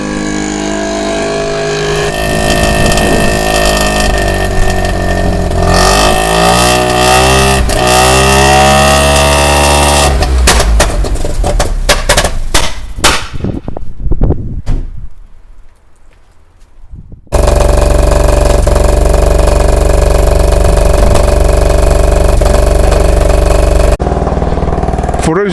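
A Citroen M35 rotary engine, cold after three months unused, runs and revs loudly with rising and falling engine tones, a brief near-silent dip, then a steady roar; no speech.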